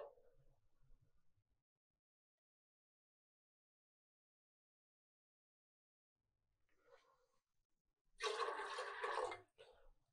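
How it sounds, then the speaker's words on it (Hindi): Two glasses of water poured into a pressure cooker of dal with garlic-chilli paste and butter, a short rushing splash near the end after quiet handling sounds. "और इसमें शामिल कर दूंगा 2 ग्लास पानी।"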